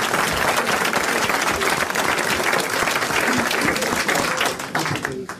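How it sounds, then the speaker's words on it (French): Studio audience applauding on a 1989 French television show, a dense, steady wash of clapping that fills the whole stretch and tapers slightly near the end. "Bon, on a applaudi"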